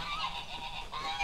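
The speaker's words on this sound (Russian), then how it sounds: "Или дикие гуси какие-то." Wild geese or ducks honk in the video game Paws, a steady nasal chorus of close, repeated calls heard alone with no talk.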